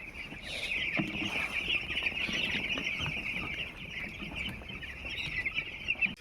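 A crowd of four-day-old broiler chicks chirps and clucks steadily in a brooding shed, a dense, continuous high twittering at moderate volume with no talk.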